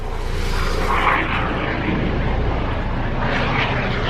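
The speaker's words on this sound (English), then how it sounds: "there's always helicopters flying by." A steady, loud engine roar from a helicopter flying overhead fills the whole stretch, droning continuously with a faint swell partway through.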